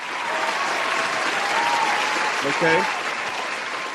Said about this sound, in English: let's give a round of applause to our brother